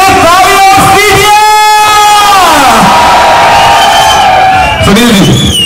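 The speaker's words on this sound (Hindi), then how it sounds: "एक बार दिल से तालियां दीजिए" A lively festival crowd at the Bundi Kajli Teej Mahotsav 2023 cheers loudly and steadily, with raised voices and whoops swelling and falling throughout.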